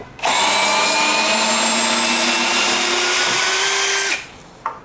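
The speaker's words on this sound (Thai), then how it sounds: "สกูขนาดใหญ่ที่ 68 นิวตันเมตร ก็ไขออกไขเข้าสบาย" A DeWalt DCD100 cordless impact drill drives a large screw in one continuous, loud, high-pitched whirring run of about four seconds, pitch shifting slightly near the end before stopping abruptly, then a brief click.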